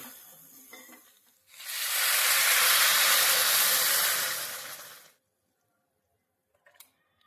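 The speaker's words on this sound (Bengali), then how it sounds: "এবার এর মধ্যে দিয়ে দেবো পরিমাণ মতো জল" Water poured into a hot pan of vegetables for Bengali shukto, giving a loud steady hiss and sizzle for about four seconds before it dies away to quiet.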